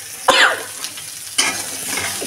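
Fish head fries in spices in a pan, with two quick stirring scrapes that set off short bursts of close sizzling over a softer crackle.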